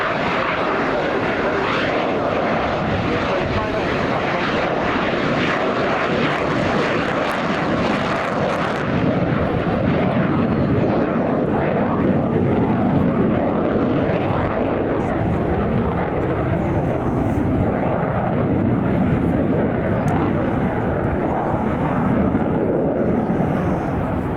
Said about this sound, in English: All the Danish F-16s now concentrated with the fighter wings moving through.